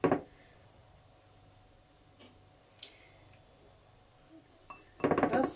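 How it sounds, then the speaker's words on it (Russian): Breaded cauliflower pieces are set onto a plate with a few light, sparse clinks and taps in a quiet kitchen, with louder clatter at the start and end. "И сейчас на тарелочку все это поскладываю вот так вот."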